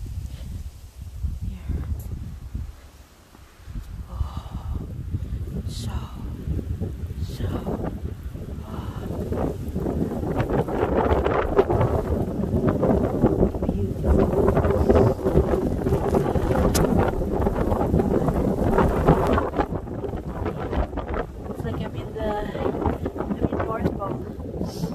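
Strong wind during a snowstorm roars and gusts steadily across the microphone, loud and close, building in intensity toward the middle and holding with rumbling buffeting throughout.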